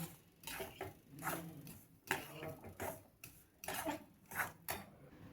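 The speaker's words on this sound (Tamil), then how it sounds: "எல்லாத்தையும் நல்லா கலந்துக்கலாம்" Ragi batter being stirred together with grated coconut and ground ash gourd paste, giving repeated close clinks and wet scrapes of a spoon against a vessel in an uneven, busy rhythm.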